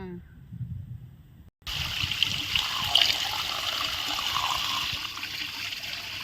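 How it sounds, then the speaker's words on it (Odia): Water is poured over fresh desi river pohala fish to wash them. After a quiet start, a sudden steady splashing and trickling begins and runs on continuously, close by, with faint voices in the background. "ବର୍ତ୍ତମାନ ପାଣି ଦିଆ ହେଇକି ଭଲସେ ଧୋଇ ନବା"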